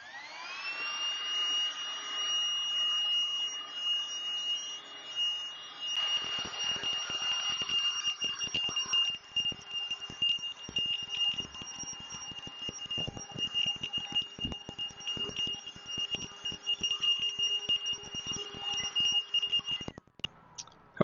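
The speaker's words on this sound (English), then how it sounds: "I'm just going to use this and clean it up." A Hikeren handheld vacuum whines steadily as it sucks sawdust and leaves out of a vehicle, a high-pitched motor drone with rattling and crackling debris pickup partway through, continuous and close until it cuts off near the end.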